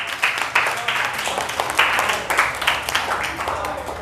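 A classroom of students claps together in a lively, uneven burst of applause lasting several seconds, with a voice mixed in underneath.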